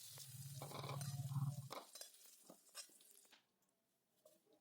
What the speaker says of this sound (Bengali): আর এইভাবে ঢাকা দিয়ে দিয়ে আবার ঢাকা খুলে নাড়িয়ে নাড়িয়ে আলুটাকে সুন্দর করে লাল রং ধরিয়ে ভেজে নিতে হবে।